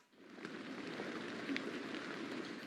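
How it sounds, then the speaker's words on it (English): Rain falls steadily outdoors at a Veterans Day ceremony at Arlington National Cemetery, a soft continuous patter with occasional nearby drops, faint and even throughout, with no voices. "Rain fell at a Veterans Day ceremony at Arlington National Cemetery"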